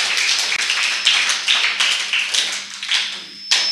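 A church congregation at a New Year's Eve watch night service claps in steady unison, a dense roomful of hands beating a regular rhythm for several seconds, loud and close with a faint hum beneath.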